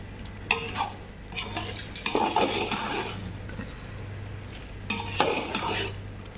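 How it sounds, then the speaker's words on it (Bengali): Fish, potato and carrot sautéed in a pan, with steady frying sizzle under repeated scraping and stirring strokes of a utensil against the pan, near and fairly loud. "এই যে মাছ, তারপরে আলু, গাজর, এগুলো হচ্ছে কষাই দিচ্ছি।"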